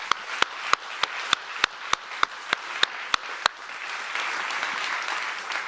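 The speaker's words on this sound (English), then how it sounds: "Let's give them a big round of applause because they really work hard." Audience applause at a GopherCon Europe 2022 programming conference: a dozen loud, evenly spaced claps stand out over a crowd's softer clapping for about three and a half seconds, then give way to a diffuse, dense patter of applause.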